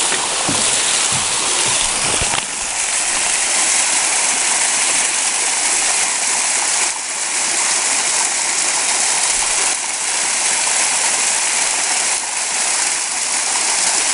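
A waterfall on the Bartram Trail roars loudly and steadily as broadband rushing water, close and continuous without pause, with no talking over it.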